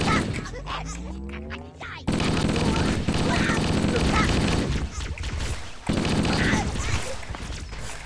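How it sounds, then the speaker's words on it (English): Automatic weapon fire in the video game Halo Combat Evolved comes in loud, sustained bursts with a short break midway, preceded by a moment of other game sound effects. "Who the hell is shooting me?"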